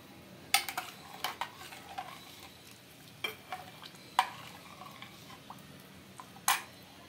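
Millet simmering with coconut milk in a pot, a soft low bubbling hiss beneath sharp spoon taps and scrapes against the pot every second or so, with no talk.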